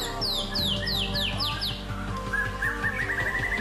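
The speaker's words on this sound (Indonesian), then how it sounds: "banyak burung murai batu yang ketika di rumah sangat gacor" A white-rumped shama songbird sings a run of sharp descending whistled phrases followed by rapid high chirping trills, loud and close, with a steady hum of background noise underneath.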